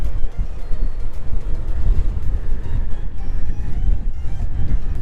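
Strong gale-force wind roars steadily across open water while fishing for walleye from a boat, a dense low buffeting rush with gusty swells, no voices.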